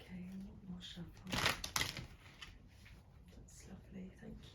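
A brief burst of crisp riffling as oracle cards are shuffled rises out of soft background talk and fades after about a second.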